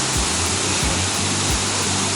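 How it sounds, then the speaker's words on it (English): Long Creek Falls, a waterfall on a side trail off the Appalachian Trail, pours in a steady, loud, close rush of falling water with a few low thumps, and no one talks. "but it's a nice waterfall"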